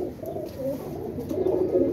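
Pigeons, fancy rooftop flying breeds, cooing softly and continuously at close range, a low murmuring coo that swells and fades over two seconds, with no talk.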